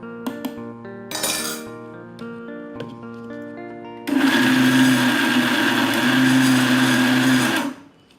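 An electric mixer grinder whirs loudly and steadily for several seconds, crushing peanuts and garlic cloves, after a few clinks and brief motor bursts at the start.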